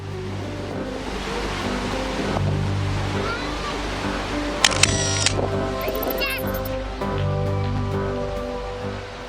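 The 250-metre Ponot waterfall in Asahan, North Sumatra, gives a constant broadband rush of falling water. A few brief sharp clicks and hum-like tones sit over it midway.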